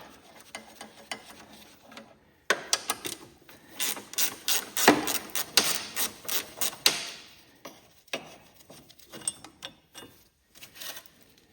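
A ratchet wrench loosens rusted bolts on a Cub Cadet 1650 garden tractor engine, giving bursts of quick, close clicking pawl strokes with brief pauses between them.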